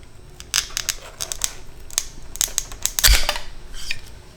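A hose cutter tool squeezes through braided Teflon hose in a series of close crunching snips and clicks, ending in a louder snap as the cut goes through.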